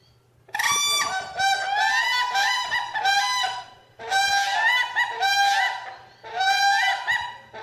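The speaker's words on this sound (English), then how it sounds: "I guess it could kind of sound like a crane." Loud honking bird calls, goose-like and high-pitched, come in two long runs of repeated close calls separated by a short pause.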